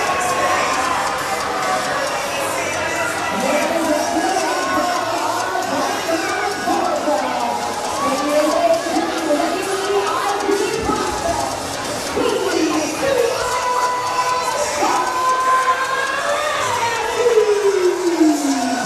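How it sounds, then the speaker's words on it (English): A wrestling event crowd stays loud and excited after a surprise match win, with continuous cheering, whoops and overlapping shouts that fill the room for the whole stretch. "Crowd still excited, shock about the win by Paul Walter Hauser before intermission."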